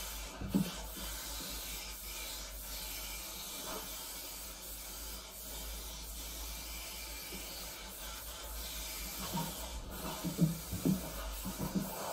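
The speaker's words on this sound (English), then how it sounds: "I've sprayed all around the edge" An aerosol sprays in a long, steady hiss around the edge of a walk-in shower, with occasional faint knocks and rubbing as the can is moved along, heard close up.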